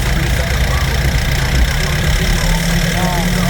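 A Nissan NV350 Urvan engine idles steadily at about 1,000 RPM, a loud, continuous low rumble close by, with someone speaking over it.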